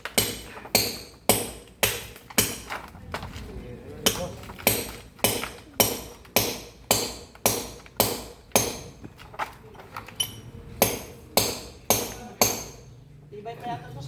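A hammer strikes repeatedly in a steady, even rhythm, about twenty sharp ringing blows, loud and close, with faint voices now and then between hits.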